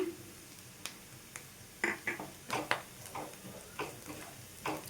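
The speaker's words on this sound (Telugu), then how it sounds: "ఈ మసాలా మొత్తం మంచిగా మనకి ఫ్రై అవ్వాలి" Masala for a cowpea gravy curry fries quietly in a pan, with a soft sizzle under a series of spatula scrapes and taps against the metal.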